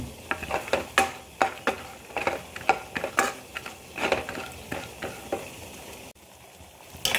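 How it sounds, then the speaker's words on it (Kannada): Frying and stirring in a pan while making Kaashi halva, a series of irregular scraping and clinking spoon strokes over a faint sizzle, close and moderately loud, pausing briefly near the end. "ಇದನ್ನು ಕೂಡ ಸ್ವಲ್ಪ ಫ್ರೈ ಮಾಡಿ"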